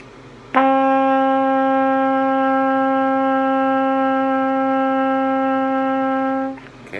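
A trumpet sounds a single sustained D, steady and bright for about six seconds before cutting off, played alone in a quiet room.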